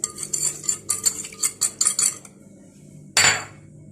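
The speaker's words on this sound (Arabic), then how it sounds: "هقلب على البارد" Metal spoon stirring milk with sugar and cocoa in a cup, giving rapid clinking and scraping strokes close by, then a pause and one last sharp clink.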